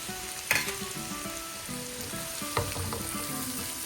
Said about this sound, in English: Now it's time to put onion.